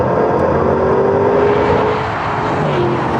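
Range Rover Sport SV engine with artificial engine noise, a loud continuous drone as the SUV accelerates hard in a drag race against a Lamborghini Urus, steady roar with a slight dip near the end, no talk.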